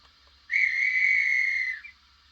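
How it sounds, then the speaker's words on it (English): A single shrill, steady guard's whistle sound from a Bachmann 009 gauge Hunslet model locomotive, lasting just over a second, clean and close, with quiet before and after. "finish off here with guard's whistle"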